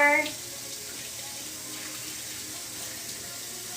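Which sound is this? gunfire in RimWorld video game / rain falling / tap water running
tap water running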